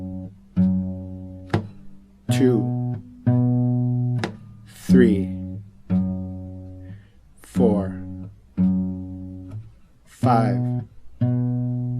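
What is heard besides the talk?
guitar bass notes of a 12-bar blues, syncopated rhythm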